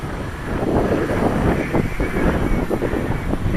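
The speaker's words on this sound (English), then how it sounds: "It's starting to get windy again." Gusty wind buffets the microphone at an outdoor flying field where a radio-controlled aircraft is in the air, a loud, continuous rumble and roar that swells and eases with each gust.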